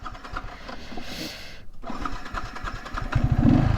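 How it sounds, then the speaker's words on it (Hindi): A Yamaha R15 V3 motorcycle engine cranks and catches on a road washed out by water, a close, uneven mechanical churn that swells louder toward the end. "सर स्टार्ट भी हो गई"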